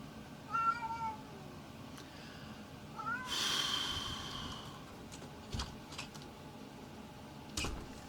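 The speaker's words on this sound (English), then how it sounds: "My cat meows." A pet cat meows a few times indoors, soft rising calls spaced apart against quiet room noise, with a faint breathy sound and a couple of light clicks between them.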